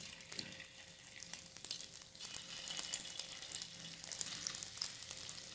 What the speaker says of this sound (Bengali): এগুলো ফ্রাই করার জন্য আমি কড়াই বসিয়েছি আর তাতে রিফাইন অয়েল দিয়ে দিয়েছি